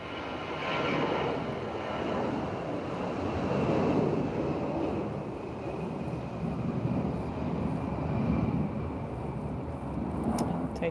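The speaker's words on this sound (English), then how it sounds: "we hear an acceleration, and coming through is the Lufthansa" A Lufthansa airliner accelerates for takeoff at Lisbon, its engines a loud, continuous broadband roar that holds steady and swells slightly throughout, heard outdoors from a distance with no talking.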